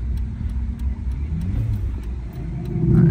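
Car engine with a cheap aftermarket air intake from Amazon, a low steady rumble with rising revs near the end, heard close from inside the vehicle.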